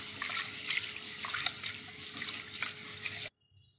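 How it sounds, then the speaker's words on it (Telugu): Running water pours steadily from a tap over horse gram being washed in a cooker, a continuous close splashing rush that cuts off abruptly near the end and leaves faint trickles. "వాటర్ పోసుకొని శుభ్రంగా కడుక్కుందాం."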